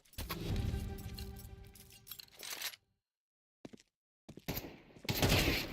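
Bursts of rapid gunfire from an esports shooter video game sound loud and harsh in short clusters, broken by brief moments of near silence.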